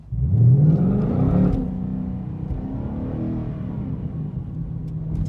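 A 2019 Ford Mustang launches hard with its tire spinning: a loud, rising engine roar climbs over about a second, then settles into a steady, rumbling drone close by.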